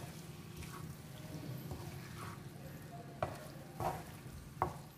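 Paneer cubes sauté in oil with masala in a pan, a steady low sizzle carrying along with occasional spatula scrapes and a few sharper stirring knocks near the end.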